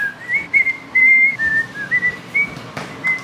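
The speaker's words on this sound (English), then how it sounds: "I forgot I could whistle." A person whistles a short wavering tune in a series of brief, bright notes with small gaps between them, close and clear over a quiet room.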